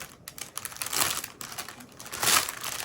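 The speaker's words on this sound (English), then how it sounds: "Sorry for the crinkling" Plastic packaging of a stamped cross stitch kit being opened and handled, giving a close, irregular crinkling with two louder swells of rustle and no voices.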